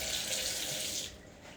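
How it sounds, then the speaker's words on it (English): Tap water runs steadily from a kitchen faucet while hands are wet before stretching and folding sourdough dough, a close, full hiss that drops a little softer near the end. "But first, we need to make our hands wet."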